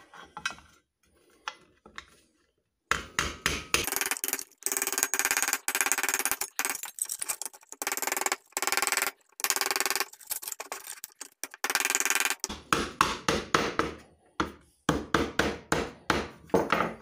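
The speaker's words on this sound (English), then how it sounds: "Let me grab my, I've got a rubber mallet." A rubber mallet taps on a flimsy vintage Bandai king-size VW Beetle tin toy, a fast series of sharp close knocks in uneven bursts after a quiet opening.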